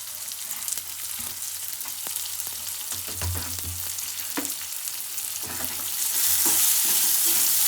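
Chopped onion frying in hot oil with asafoetida and ginger, garlic and green chili paste for an aloo paratha filling, a steady close sizzle broken by scraping stirs and small pops that grow louder near the end.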